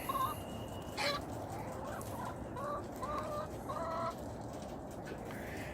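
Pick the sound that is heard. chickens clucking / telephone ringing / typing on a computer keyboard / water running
chickens clucking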